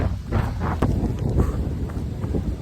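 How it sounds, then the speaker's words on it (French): Strong wind buffets the microphone during a road trip to a trail race, a loud, close, gusty low rumble with uneven bursts throughout. "Oh, il y a un vent de fou."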